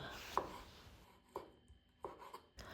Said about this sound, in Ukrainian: Також беру помідори черрі 300 г і розрізаю їх навпіл.